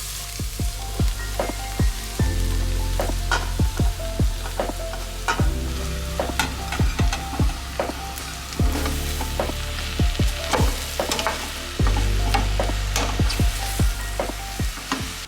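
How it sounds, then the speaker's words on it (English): Mushrooms cook among softened, caramelizing onions in a pan for a creamy mushroom soup, with a steady sizzle and repeated sharp scraping stirs and clinks throughout. "So at this point, I will start adding the mushrooms."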